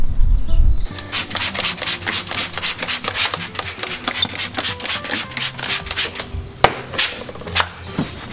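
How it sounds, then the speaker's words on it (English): Rhythmic scrubbing of an old radiator fan shroud from a 2005 Mazdaspeed Miata, steady back-and-forth rubbing strokes close by with a sharp knock near the end, no talking. "we're gonna clean this old fan shroud before we attach it to a brand new aluminum radiator"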